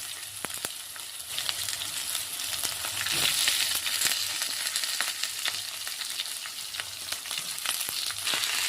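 Onion pieces and curry leaves fry in a hot pan with a little asafoetida for tomato chilli chutney, giving a steady, loud, close sizzle with crackling pops throughout and no talking.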